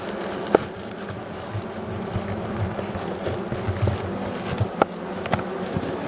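A steady, dense buzzing of many honeybees inside a warm hive after winter fills the air, close and continuous, with a few brief clicks and taps.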